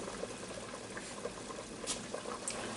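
Pot of potatoes boiling in salted water on a stove, a steady soft bubbling and hiss with occasional louder pops, fairly quiet and close, with no talking.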